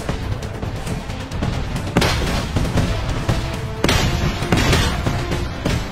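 Mortar fire in the video game PUBG Mobile, with repeated loud booms and bursts of gunfire crowding a dense battle soundscape, several heavy blasts punctuating the din.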